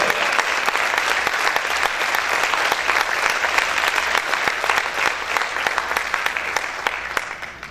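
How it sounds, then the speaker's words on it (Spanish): A church congregation applauds loudly and steadily, a dense wash of many hands clapping that holds strong for the whole stretch before thinning slightly at the end. "Si ese aplauso es para el Señor, déselo fuerte."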